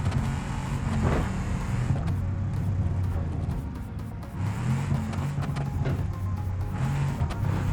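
A taxi's engine in the game BeamNG.drive drones steadily and loudly throughout, rising and falling slightly as it revs, with a synthetic, game-like quality.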